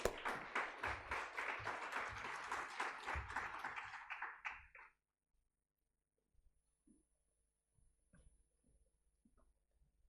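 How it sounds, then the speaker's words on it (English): An audience at a panel event on funding priorities in India claps to welcome a speaker to the stage, a burst of dense applause lasting about five seconds that stops abruptly, followed by quiet room noise and faint shuffles. "Let's invite Mr. Subramaniam to the dais with a big clap to him."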